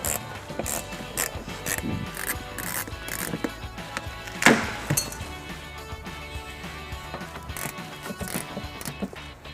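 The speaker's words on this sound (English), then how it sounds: "You can now remove 1 fastener from underneath the wheel trim using a T30 Torx bit." A ratchet with a T30 Torx bit takes out a fastener beneath the wheel trim of a 2017-2024 Maserati Levante. Close, sharp metallic clicks and clinks come in quick irregular bursts, with one louder clatter midway.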